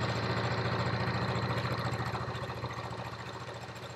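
A sewing machine stitches a qaspeq pocket, running as a steady close mechanical hum with a fast regular needle clatter throughout. It fades slightly toward the end, with no talking.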